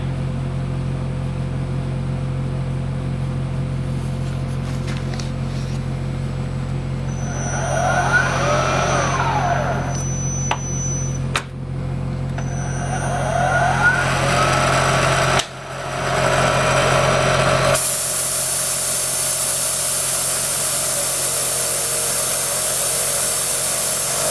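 A machine-driven profile bit cuts a taper in a hole for a ball mount on a head bracket. A steady mechanical hum carries two whining, rising-and-falling cutting passes, and a sudden harsher, louder noise follows near the end.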